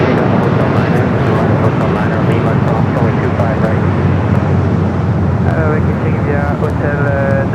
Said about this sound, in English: Speedbird and A380 Super now pushing back the second Singapore flight